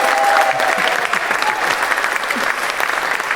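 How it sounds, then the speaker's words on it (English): Dense, sustained applause from a lecture audience for a professor, a continuous wash of many hands clapping at even loudness throughout, with a faint voice briefly under it near the start. "One more round of applause for the great Professor Cornel West."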